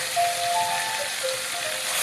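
Marinated chicken pieces for a chicken tikka dum biryani fry in oil on high heat with a dense, even hiss and faint crackle, no speech.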